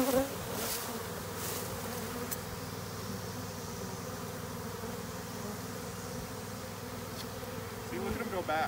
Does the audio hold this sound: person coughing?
no